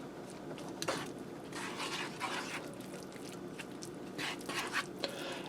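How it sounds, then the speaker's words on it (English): A spoon stirs cheese into thick potato soup in a pressure cooker, producing soft, continuous wet scraping and sloshing, fairly quiet and close. "I'm going to stir my cheese in so it melts"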